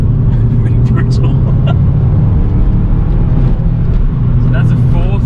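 A Subaru WRX STi Type RA Version 2 engine pulls hard in fourth gear, a loud sustained low rumble heard from inside the car, with people talking over it.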